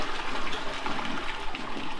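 Toilet flush pumped by hand on a wind-up toilet used to water-cool a PC, a continuous rushing, gurgling water wash heard close and alone.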